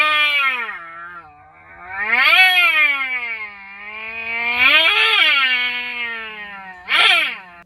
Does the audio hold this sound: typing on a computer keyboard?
no